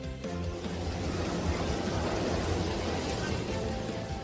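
A heavy summer rainstorm downpour gives a steady, dense roar of falling rain that holds at an even level throughout, with no voices.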